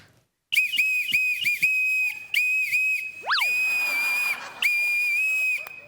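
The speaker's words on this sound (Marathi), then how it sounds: "याच्यावर मी शिट्टीवरची गाणी असा मनोरंजनाचा कार्यक्रम करणार" A whistle blown on a comedy stage show to play a Hindi film song sounds as long, piercing blasts held mostly at one pitch, broken by short gaps and a brief sliding swoop.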